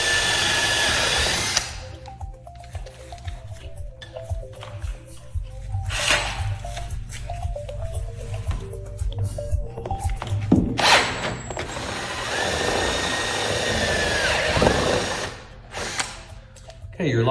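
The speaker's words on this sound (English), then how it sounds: "So I use an 1/8 inch bit just to get it started." A power drill with a 1/8 inch bit bores a starter hole for a patio door lock: bursts of whirring motor with pauses between them, loud and close, with talk in the gaps.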